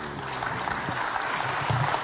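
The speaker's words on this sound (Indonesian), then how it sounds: "Boleh tepuk tangan lagi, jangan ragu-ragu" Brief audience applause at a stock investing talk, a dense, even patter of clapping from a seated crowd lasting a couple of seconds.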